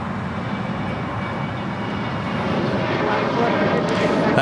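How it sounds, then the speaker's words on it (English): A Singapore Airlines Boeing 777-300ER arriving from Tokyo at LAX makes a steady, broad jet roar that swells slightly louder toward the end, with people talking faintly underneath. "That was Singapore Airlines Flight 12 coming in from Tokyo to Rita in a 777-300ER"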